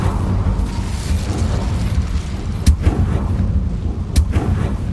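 Fiery burst of the Incendio spell in Hogwarts Legacy, a dense roaring rumble throughout with two sharper crackling flares standing out near the middle and toward the end, loud and close.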